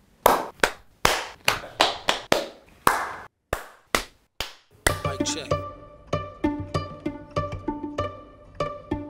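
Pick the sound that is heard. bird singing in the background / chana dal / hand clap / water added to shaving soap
hand clap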